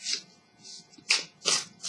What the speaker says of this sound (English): So let's just shuffle a little bit.